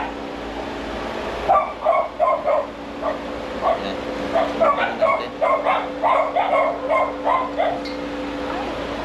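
Several dogs barking in repeated bursts, some quick yips and overlapping barks, fairly loud and near, over a steady background hum.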